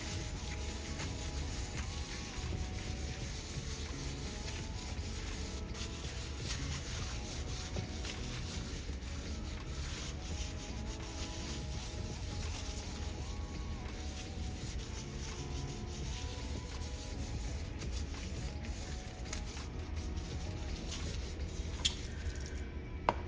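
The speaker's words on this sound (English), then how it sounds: "I'm gonna rub this in really good." Pepper and seasoning being rubbed by hand into a raw T-bone steak, a steady close-up scrubbing and squishing that runs evenly throughout with no talking.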